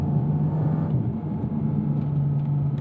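A Manthey Racing Porsche GT4 RS engine gives a deep, steady rumble with a throaty exhaust drone at an even pitch, close and continuous.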